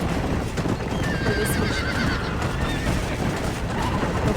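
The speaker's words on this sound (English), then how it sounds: "The horse sounds, it is a lot." Horses whinny loudly in Red Dead Redemption, with clattering hooves and shrill neighs filling the whole stretch while a voice speaks briefly over them.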